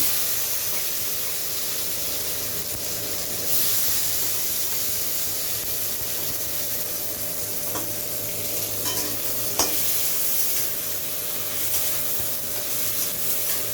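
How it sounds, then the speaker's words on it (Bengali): Tomato fries in a pan with a broken dried red chilli, cinnamon and cardamom, giving a continuous sizzle with spoon-stirring scrapes and a few sharp clinks over the steady hiss. "টমেটোর কাঁচা গন্ধ না যাওয়া অবধি আমি টমেটোটাকে ভেজে নেব"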